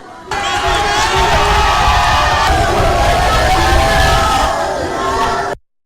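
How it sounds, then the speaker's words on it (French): A large outdoor crowd after prayers ovates the head of state of Guinea, a dense, sustained roar of cheering and shouting voices that holds loud for several seconds before cutting off abruptly. "le chef de l'État a salué la foule qui l'a fortement ovationné"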